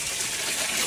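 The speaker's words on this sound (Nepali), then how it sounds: "यो आज नुहाउन आँटेको पानी मैले खोलिदिएको छु है।" Water runs from a tap in a home bathroom as a bath is drawn, a steady, close, hissing gush that stays even and unbroken throughout.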